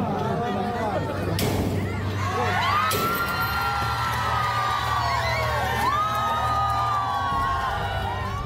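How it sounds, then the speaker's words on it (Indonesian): Parents shout and cheer in triumph as the padlocked gate of SDN Utan Jaya elementary school in Depok is forced open, a loud crowd of overlapping whoops and yells with a steady low hum underneath. "Pembukaan paksa gembok pagar SDN Utan Jaya ini langsung disambut teriakan kemenangan oleh orang tua murid."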